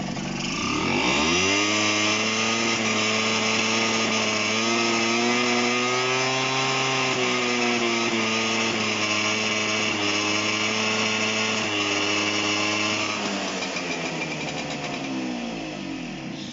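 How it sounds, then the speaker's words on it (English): A small two-stroke Honda SH50 scooter engine with its exhaust fitted runs loudly and close, its pitch rising and falling through several revs before settling back toward idle. "So I'll just switch it on here,"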